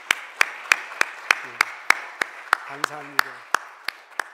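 A small church congregation claps after a thank-you, about a dozen sharp claps spaced roughly a third of a second apart, steady and fairly close, with a brief spoken word partway through.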